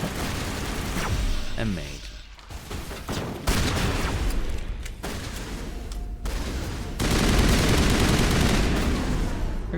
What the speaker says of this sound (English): Did I miss with the shotgun?